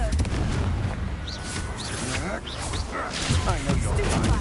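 Confringo blasting curse fired during combat in Hogwarts Legacy, a burst of loud crackling magical blast effects over dense game noise and music, with a voice speaking the spell and fighting sounds continuing throughout.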